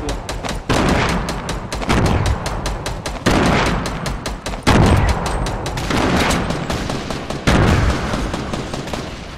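Fortnite gunfire in repeated loud bursts of rapid shots, several sustained volleys back to back with brief gaps, close and dominant throughout.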